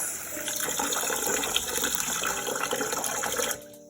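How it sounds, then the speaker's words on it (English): Basmati rice is rinsed under running tap water, a close continuous gush and splash into the bowl that stops abruptly near the end. "first you need to rinse the rice"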